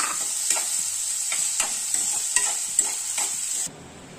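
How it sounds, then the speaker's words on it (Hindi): Finely chopped onions frying with cumin until golden brown for mushroom masala, a steady bright sizzle with a series of stirring clatters and scrapes, cutting off abruptly near the end; no talking. "ये 2 अनियंस को मैंने चॉप करा है, बारीक चॉप किया है। तो इसको हम गोल्डन ब्राउन होने तक भूनेंगे।"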